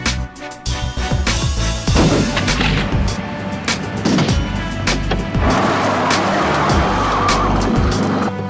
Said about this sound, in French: C'est assez amusant de rouler sur la neige.